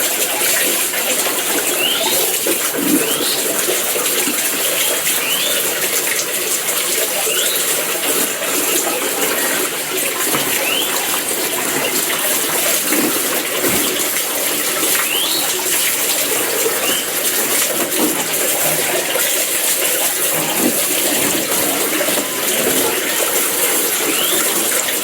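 A steady, hissing water spray plays over the headlamp of a Honda Vario motorcycle for a water-leak test, continuous and close, with faint bird calls in the background.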